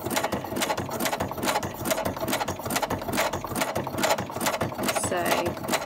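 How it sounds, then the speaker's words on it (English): A sewing machine runs a zigzag stitch around an image on a fabric tag, a steady, close mechanical whirring with fast rhythmic needle clatter throughout. "I'm going to sew"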